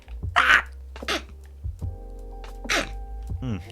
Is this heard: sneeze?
yes